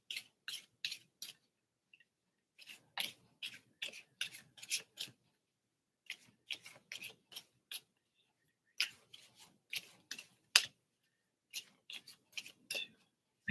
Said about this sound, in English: it's like they feel so much better to shuffle now